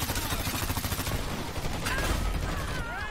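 Rapid bursts of gunfire and a blast crackle through a chaotic video game firefight, the grenade explosion loud and close amid continuous shooting.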